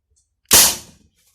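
A single muffled gunshot from a 12 mm pistol fitted with a suppressor, a sharp sudden crack followed by a short fading burst of noise, heard alone in a quiet setting.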